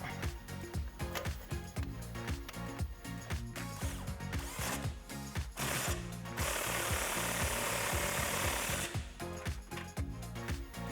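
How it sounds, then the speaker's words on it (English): An impact wrench with an 18mm socket, swivel and extension tightens the upper control arm ball joint nut on a 2019-2022 Chevrolet Silverado 1500, hammering loudly and rapidly and continuously, with a steadier whirring stretch in the middle. "I'm gonna tighten down the upper control arm ball joint nut using our 18mm socket, swivel, and extension on our impact."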